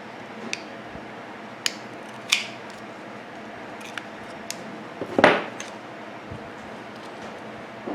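Snips of cutters through copper wire on a recycled microwave turntable motor, a few sharp clicks spread across the clip with one louder crunching cut near the middle, close up over a faint steady room hiss.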